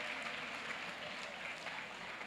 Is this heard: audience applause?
yes